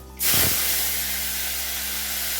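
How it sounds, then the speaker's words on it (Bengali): Chopped tomato and panch phoron, a five-spice mix, land in hot oil with an abrupt, loud hissing burst that settles into a strong, even sizzle close up. "প্রথমেই আমি তেলে দিয়ে দেবো সামান্য একটু 5 ফোড়ন, আর দিয়ে দেবো কুচিয়ে রাখা টমেটোটা।"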